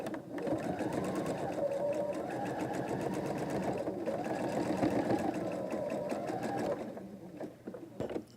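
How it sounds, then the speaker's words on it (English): A sewing machine hums steadily and continuously for about seven seconds while stitching quilt blocks, then stops; close and fairly loud, with no talking. "I love the sound of a machine. I like the way it just kind of hums along."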